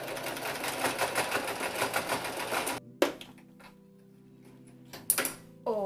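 A sewing machine runs a dotted-line zigzag stitch on an anime shirt, a fast steady mechanical chatter close up that stops abruptly, followed by a few clicks and short bursts of running.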